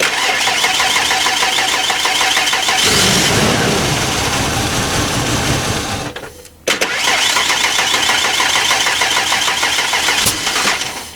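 A 1992 Ford Explorer engine cranks and fires up for the first time, loud and close, running steadily with a sharp drop and cutout partway before it catches and keeps revving.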